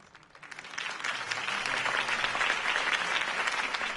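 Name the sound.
crowd applauding a campaign speech in a Batman video game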